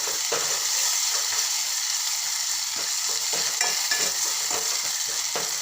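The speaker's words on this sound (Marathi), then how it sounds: "मी आता लसणाची व खोबऱ्याची पेस्ट घालते त्याला पण छान असं मस्त तेल सुटेपर्यंत परतून घेते" Garlic and coconut paste fries with softened onions in hot oil for a Vidarbha-style potato and brinjal curry, giving a loud, dense, unbroken sizzle up close with faint stirring taps.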